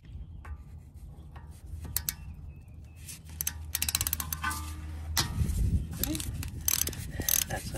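A brake pad sensor on a 2011 Mercedes ML350 W164 comes off using an E10 Torx socket, heard as close ratchet clicks, scraping and clinking metal with a brief low hum in the middle.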